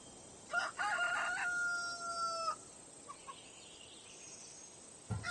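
A rooster crows once, loud and drawn out, in the Assassin's Creed Odyssey video game, followed by faint clucks and insect chirping in a quiet outdoor setting.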